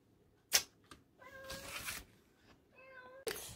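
Cats meow indoors, with two or three clear, close mews between sharp rustling knocks.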